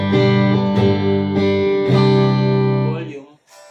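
An electric guitar on its middle pickup rings out sustained chords and notes with a bright, clean tone, each re-struck a few times before fading out near the end.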